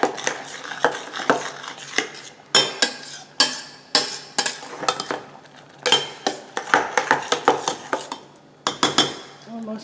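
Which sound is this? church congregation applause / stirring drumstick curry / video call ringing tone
stirring drumstick curry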